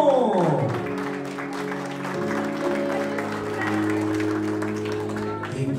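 Guests at Jacqueline Hernández's quinceañera applaud as her waltz begins. Steady crowd clapping runs beneath sustained tonal music, both fairly loud and continuous.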